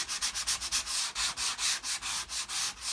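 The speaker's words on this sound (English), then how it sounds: "you're going to take a block, you're going to sand these, it's going to sand it nice and easy" Dried drywall joint compound sanded by hand with a sanding block, a brisk rhythmic scratching of short back-and-forth strokes repeating evenly, close and alone.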